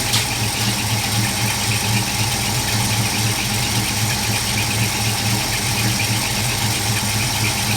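Small engine with a choke cable needing adjustment running steadily, a constant close mechanical drone with a rough, knocking texture and even loudness throughout.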